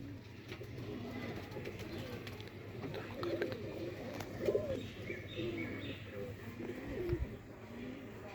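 Sialkoti roof pigeons cooing softly in a loft, low throaty coos repeating at a moderate distance over steady background hum, with a few faint chirps and no clear talk.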